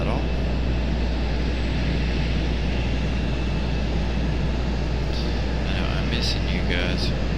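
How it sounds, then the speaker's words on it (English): An Alaska Airlines jet airliner moves on the ground at Raleigh-Durham International with a steady, broad engine roar. A few faint chirps come near the end. "There's Alaska Airlines getting ready to get a move on, head back to"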